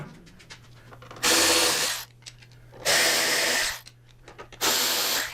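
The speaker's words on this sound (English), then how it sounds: "And this top bolt here, I just remove it about 3/4 of the way." A power tool backs a bolt out of a motorcycle fairing in three loud buzzing bursts of under a second each, separated by quiet pauses with faint handling clicks.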